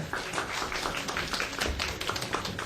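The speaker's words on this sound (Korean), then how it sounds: "큰 박수로 맞으시면 대단히 감사하겠습니다." Audience applause at an education information session for incoming middle school students, a steady crowd clapping that stays even and moderately loud throughout.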